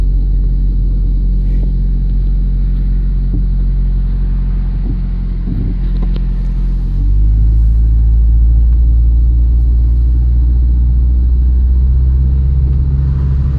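An old $75 car's engine runs steadily while driving, a continuous low rumble with a deeper, louder shift in tone about halfway through, close and with no talk.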